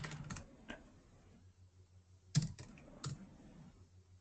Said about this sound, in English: I'm typing in different options to try and find it